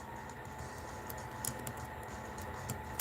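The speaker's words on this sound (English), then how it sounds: "I'm typing that in right now." Rapid clicking of computer keys being typed in short irregular bursts, close and fairly quiet, over a faint background hum.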